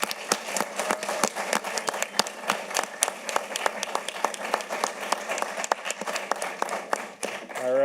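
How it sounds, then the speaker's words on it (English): A debate audience at the 2022 Vermont gubernatorial debate applauds the moderators, a steady, moderately distant wash of many clapping hands lasting several seconds with no speech over it. "Big applause for them and for the entire VTDigger reporting team."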